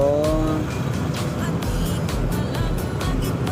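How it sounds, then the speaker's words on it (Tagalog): Heavy road traffic in Dumaguete city, a dense continuous rumble of engines and passing vehicles with occasional horn-like tones, steady and close. "sobrang traffic"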